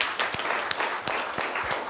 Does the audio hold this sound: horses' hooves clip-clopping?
no